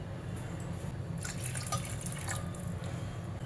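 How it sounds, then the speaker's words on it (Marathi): Water poured into a pot of rice being cooked for Maharashtrian coconut rice, a steady splashing, trickling pour that runs continuously with faint dripping detail, fairly quiet and with no talk. "त्याला आपण साधारणत दोन कप हे पाणी घालणार आहे"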